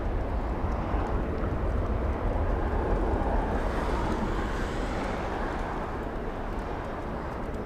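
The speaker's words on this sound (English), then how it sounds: "Let's go take a look at the one about to touch down on the same exact runway." Alaska Airlines Boeing 737 touching down at LAX, a steady broad jet roar heard from a distance, loud and unbroken throughout with no voices.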